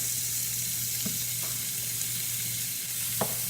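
Sliced kielbasa fries in melted butter in a pan with a steady, close sizzle, broken by a few soft scraping stirs and a low continuous hum underneath.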